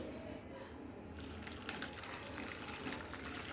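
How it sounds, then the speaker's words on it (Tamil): Water pours steadily into a bowl of rice flour with a soft splashing rush, close by, with a few small clinks as it runs. "இந்த மீதி மாவு இருக்குல்ல அதை இதை போட்டு கொஞ்சம் தண்ணி ஊற்றி"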